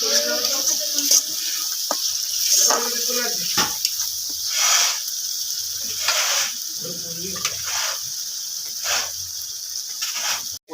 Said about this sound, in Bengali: এরপর টমেটো যে পেস্টটা ছিল ওই মশলার মধ্যে আমি দিয়ে দেবো।